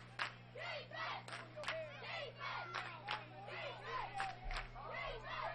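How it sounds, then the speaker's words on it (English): At a youth baseball game, the Holmes County crowd chants "defense" in loud rhythmic repeated shouts, the chant rising and falling from the stands. "Once again, the chant of defense from the Holmes County crowd."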